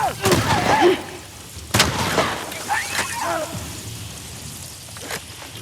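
Gunfire in The Last of Us Part II: a few sharp, loud shots cracking out at irregular intervals, followed by fainter impacts, with a voice talking intermittently over the action.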